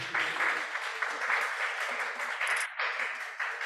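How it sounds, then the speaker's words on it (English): Sustained applause from a conference audience welcoming a keynote speaker, a steady, moderately loud roar of many hands clapping with a brief dip near the end. "give him a round of applause welcoming him"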